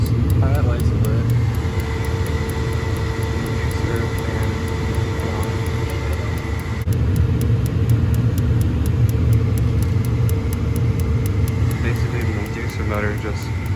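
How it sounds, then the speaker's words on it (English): Bryant gas furnace running with a newly replaced draft inducer motor, giving a steady low hum and whir that stays constant and fairly loud throughout, with a faint rattle and no clear talk. "Motor just pulls the draft up through the intake here into the combustion chamber, and then out the exhaust into the chimney."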